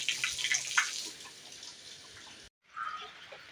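An aquarium filter pumps water, giving a steady close trickling and splashing rush that drops out briefly near the end before resuming.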